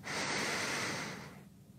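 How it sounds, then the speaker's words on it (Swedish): One long, deep inhalation during a morning yoga session, a soft airy rush close to the microphone that swells and then trails off into quiet; no speech. "Släpper låset, andas in."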